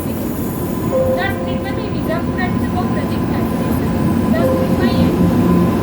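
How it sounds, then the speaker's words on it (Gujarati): A long train passes through Vadodara railway station, with loud continuous rumbling and rolling, high squealing tones from the wheels, and voices mixed in underneath. "હા જો મિત્રો ટ્રેન જઈ રહી છે."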